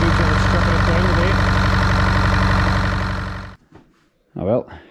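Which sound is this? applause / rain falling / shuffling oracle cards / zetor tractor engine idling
zetor tractor engine idling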